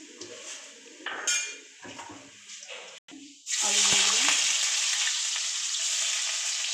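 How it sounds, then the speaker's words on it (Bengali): Nigella seeds drop into hot oil for tempering and burst into a loud, steady sizzle of frying, after a few seconds of pan and utensil clatter with some nearby talk. "আমি এখানে কালো জিরা ফোড়ন দিয়ে দিলাম"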